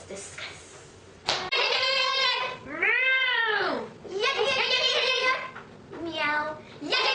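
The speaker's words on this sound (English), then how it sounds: "Meow." A cat meows repeatedly up close, a series of long, drawn-out, wavering cries separated by brief pauses, loud and clear.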